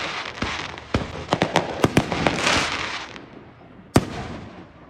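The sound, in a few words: fireworks seen from a balcony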